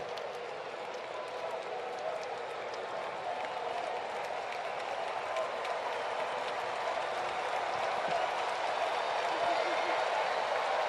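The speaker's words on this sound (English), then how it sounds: "Sellout crowd wants one more strike." Sellout crowd at a Marlins vs Braves baseball game cheering and applauding, a dense, steady roar of clapping and shouting that swells slightly toward the end, with no clear talk on top.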